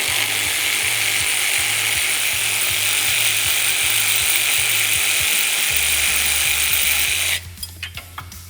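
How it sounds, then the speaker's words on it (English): Ratchet wrench with an 18mm socket and wrench on a sway bar link bolt of a Can-Am Commander clicks in rapid, steady bursts close by, then stops, leaving a few loose metallic taps. "We just have an 18mm wrench on the inside, 18mm socket on the outside."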